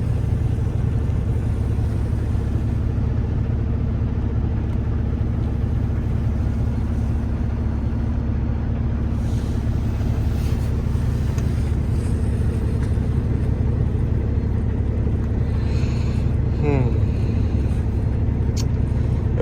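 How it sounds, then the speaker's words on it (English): A semi truck's diesel engine drones steadily while driving on a morning Costco delivery route, a constant low rumble with no voices. "Truck's running good, full of fuel."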